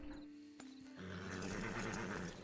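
A horse in the video game Red Dead Redemption 2 gives a brief sound, then a loud, drawn-out neigh with snorting and clip-clop hooves over a steady game soundtrack.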